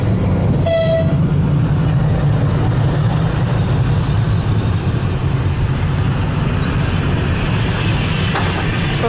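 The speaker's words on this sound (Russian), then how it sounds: "он сейчас остановится так, что голова там, а последний вагон тут" A passenger train pulls into a railway station with a sustained heavy rolling rumble. A short horn blast sounds near the start, and the noise stays loud and steady throughout.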